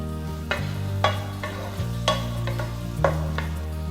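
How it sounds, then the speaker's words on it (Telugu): Chopped onions and green chillies frying in hot oil in a pan for a ridge gourd prawn curry, a steady sizzle broken by a few stirring scrapes, close and continuous with no talk. "ఆయిల్ కొంచెం వేడెక్కాక కట్ చేసి పెట్టుకున్న ఆనియన్స్ యాడ్ చేసుకోండి"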